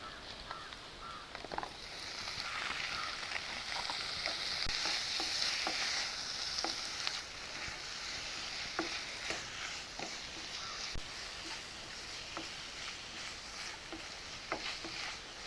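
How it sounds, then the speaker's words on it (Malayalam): Chicken pieces sizzle in a pan of onion masala for tender coconut biryani while being stirred. A steady frying hiss runs throughout, broken by soft clicks of the spoon against the pan, with no speech. "ഇതിലേക്ക് ഞാൻ ചിക്കൻ പീസ് ആഡ് ചെയ്യുവാണ്."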